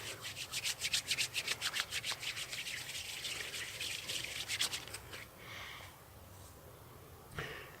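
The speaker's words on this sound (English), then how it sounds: "I'm going to get a little bit of moisture onto my fingers, really rub that in" Rhythmic rubbing strokes of moistened fingers on a wooden hand-drill spindle, about a dozen quick scrubbing passes that slow and fade, close and fairly quiet.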